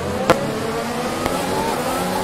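Formula 1 race car in the F1 2021 video game at the French Grand Prix crossing the line, a steady loud engine drone with two brief sharp clicks, no talking.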